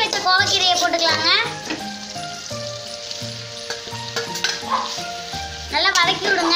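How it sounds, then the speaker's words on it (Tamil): Ivy gourd leaves and green chillies sauté in a pan with a lively sizzle and repeated stirring scrapes, under music and a voice speaking now and then. "நல்லா வதக்கி விடுங்க கட் பண்ணி வச்ச கோவக்கீரையை போட்டுக்கலாம்ங்க"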